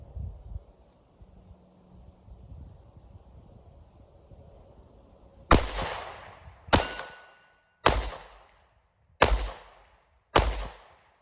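A Sig Sauer P365 X Macro compensated 9mm pistol firing five Fiocchi Range Dynamic 124 grain full metal jacket rounds outdoors: sharp, loud, evenly spaced shots with ringing decay, after several seconds of quiet wind and rustle.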